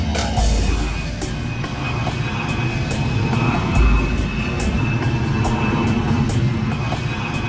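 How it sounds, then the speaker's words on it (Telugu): An airplane passes overhead at night, a steady broad engine roar that holds fairly loud throughout without fading, with no one speaking. "త్వరగా రా, విమానం."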